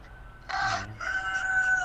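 A rooster crows in two drawn-out bursts at a moderate distance, the second longer and steadier, with a low background hum and no one speaking.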